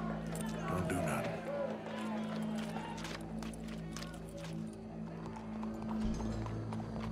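Horse hooves clip-clop in Red Dead Redemption 2, soft rhythmic footfalls under a low ambient hum, with people talking throughout.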